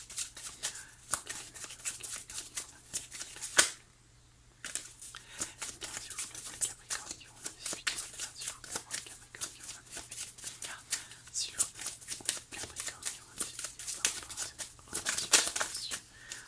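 A deck of oracle cards shuffled and handled for a single draw, with soft, steady papery flutters and taps running almost continuously, close and quiet, pausing briefly partway through.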